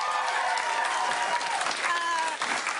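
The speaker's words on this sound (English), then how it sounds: "Let's clap for them." Studio audience applause fills the space, a steady wash of clapping hands that holds evenly from start to finish with no voices over it.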